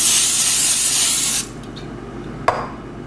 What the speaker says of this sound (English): I'm going to take a little bit more cooking spray